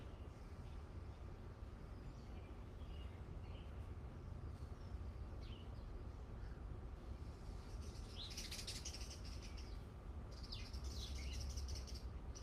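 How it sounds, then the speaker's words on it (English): Birds chirping faintly in the distance, with a few scattered calls early on and a livelier burst of short tweets toward the end, all over a steady low background hum. "I'm pretty sure that bird's saying yeah."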